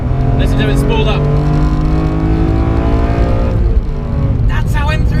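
BMW M3 CSL with its SMG semi-automated manual gearbox, the engine revving loud and close with steady rising harmonics, a shift break near the end, while someone talks over it.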